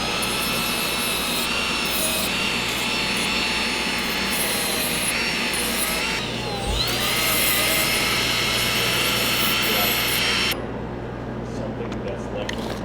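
A barrel sander grinds metal tubing, steady loud high-pitched whine and hiss that continues for about ten seconds before cutting off, with a low hum underneath.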